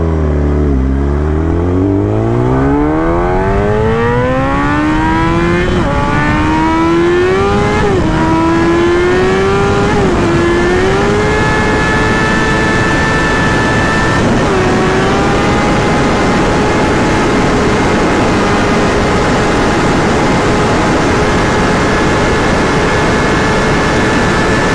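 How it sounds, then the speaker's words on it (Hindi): A Kawasaki ZX10R motorcycle revs hard and accelerates in one gear toward high speed. The loud, close engine whine climbs steadily in pitch with small dips, then holds a sustained high scream for the rest of the run. "Kawasaki ZX10R। आप लोगों ने मुझे बताना है कि आप लोगों को इसका साउंड कैसा लगा।"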